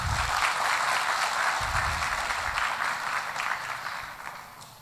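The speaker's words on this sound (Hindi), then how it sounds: "आप सबके लिए जोरदार तालियां हो जाए।" Audience at a motivational success-story talk breaks into loud, sustained applause, a thick wash of many hands clapping at once that gradually thins and fades toward the end.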